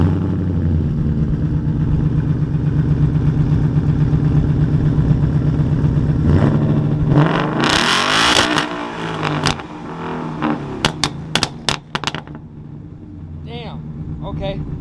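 A 2017 Mustang GT with its stock X-pipe exhaust idles with a deep, loud burble, then revs hard and repeatedly in sharp blips before settling, with people talking nearby.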